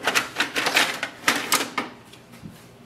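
Plastic clicks and rattles from a Brother MFC-J4335DW printer's bottom paper cassette tray being pushed out, a run of close, sharp knocks that fade into quieter handling.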